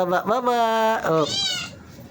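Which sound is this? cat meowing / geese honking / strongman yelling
cat meowing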